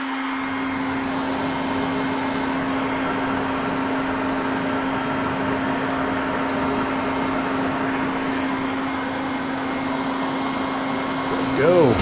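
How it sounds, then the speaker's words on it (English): Dust collection system running in a CNC workshop with a Onefinity CNC machine: a steady droning hum with a strong constant tone, even and continuous, with a brief rise at the very end. "Turn on the dust collection."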